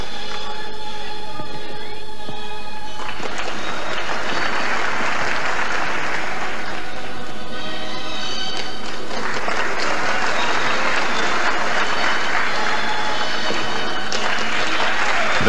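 A large crowd in the Queen Elizabeth theatre applauds a 41-year-old bodybuilder at the 1977 Mr North America contest, sustained loud clapping that swells and rolls on throughout with no talk over it.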